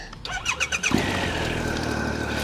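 Motorcycle engine cranking with a few rapid starter pulses, then catching and settling into a steady, fairly loud idle close by.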